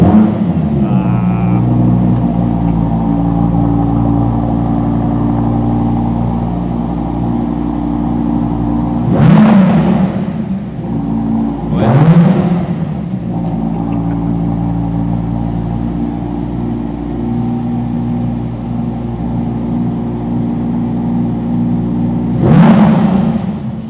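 An Audi R8 GT V10 engine fires up in an underground car park, settling into a loud steady idle broken by three sharp revving blips that echo off the concrete, no voices heard.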